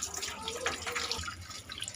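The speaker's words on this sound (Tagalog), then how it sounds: "siguraduhin lang po natin na mapunong-puno na to ng tubig ditong portion na ito" Water pours steadily from a hose into a tank, a continuous splashing rush that changes character partway through as the level rises, close and fairly loud with no talking.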